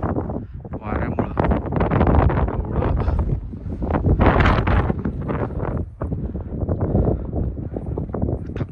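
Strong wind buffets the microphone on a mountain route toward Adi Kailash in Uttarakhand, roaring in loud gusts that rise and fall, with someone speaking at times beneath it.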